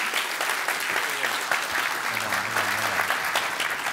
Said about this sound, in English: can I have a massive round of applause for Mr. Ranjan Bhattacharya